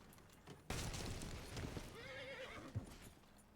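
A horse in Red Dead Redemption 2 gives a loud, wavering whinny after a sharp thump, with faint hoof clatter around it and no voices.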